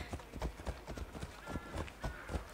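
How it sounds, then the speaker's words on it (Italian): Horse hooves clip-clopping at a steady trot in the Assassin's Creed Odyssey video game, a close, evenly spaced run of hoof beats with a faint background bed beneath. "Ma senti degli zoccoli di cavallo"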